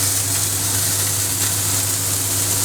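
A burger patty of minced meat sizzles and fries in a Teflon pan just after being flipped, a steady, close hiss and crackle with no voices.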